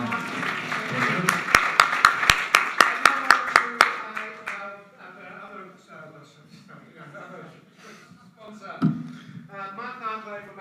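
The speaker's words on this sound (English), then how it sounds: "another round of applause" A small crowd at a chamber of commerce evening event claps in a brief burst of sharp, distinct hand claps that fades out after a few seconds, followed by someone speaking.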